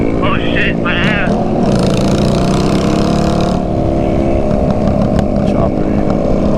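A chopper motorcycle rumbles past on the street on a Sunday, its low engine drone steady and fairly loud. People talk over it at the start and later, and a brief higher whine rises in the middle.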